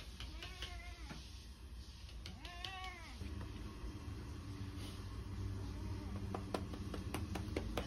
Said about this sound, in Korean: 갑자기 고양이의 방문.